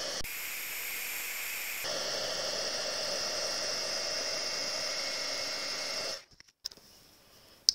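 A heat embossing tool blows hot air over white embossing powder on a stamped card, giving a steady, loud whirring hiss for about six seconds before it cuts off, followed by a few faint handling clicks.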